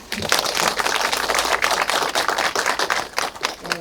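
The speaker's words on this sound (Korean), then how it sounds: "우리 대표님께 다시 한번 박수 드릴까요?" Audience applause for the director at the close of a Korean nonprofit training session on drafting articles of incorporation: a steady, dense patter of many hands clapping throughout, fairly close and even, with no talking.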